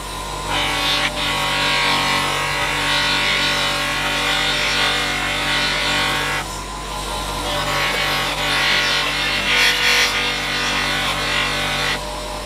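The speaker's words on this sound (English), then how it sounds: "I've managed to give it a bit of a polish using my buffing wheel and a little bit of polishing compound" A buffing wheel with polishing compound works a wooden slot machine panel, a loud continuous whirring rub broken by two short dips as the piece shifts against the wheel.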